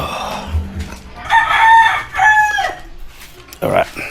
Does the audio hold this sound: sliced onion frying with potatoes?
no